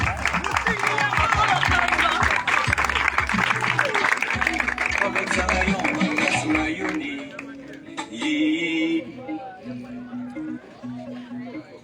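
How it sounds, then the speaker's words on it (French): Audience applause for a performer at an evening talk on culture in Owendo, clapping and crowd noise dense and loud for about six seconds, then thinning as chatter and a speaking voice take over. "Sur vos applaudissements, Mwazan Eya."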